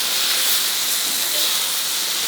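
Chicken sizzles in a hot cast iron skillet, a loud, steady, close hiss of frying that continues unbroken without talking.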